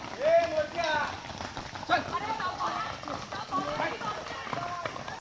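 Horse hooves clip-clop in an uneven patter during a horse ride in Matheran, heard under people talking, with soft scuffing steps throughout.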